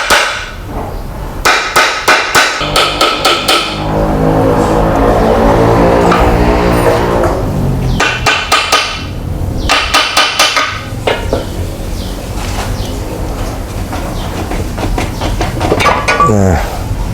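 A hammer taps repeatedly on a Nissan Grand Livina automatic transmission casing being opened during an overhaul, sharp metallic strikes coming in quick clusters with ringing, clanking pauses between them.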